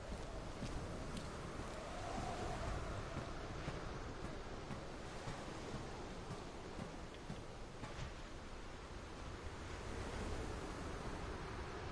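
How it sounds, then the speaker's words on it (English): Ocean waves in the video game DayZ wash in as a steady, broad, hissing surf that stays constant throughout, like wind-driven water breaking nearby, with no speech. "Oh, it was just waves."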